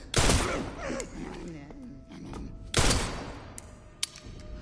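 Gunfire from the video game Resident Evil Requiem: two loud, sharp shots a few seconds apart, each with a booming tail, with a voice talking between them and a few small clicks.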